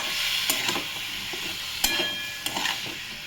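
Grated tomato gets stirred into potato and cauliflower frying in a pan, a soft steady sizzle broken by repeated spoon scrapes and a few sharp taps against the pan.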